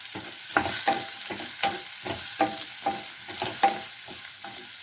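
Cauliflower gravy being stirred in a pan, a spoon scraping through it in steady repeated strokes every half second or so over a constant soft sizzle, close and moderately loud, no voices.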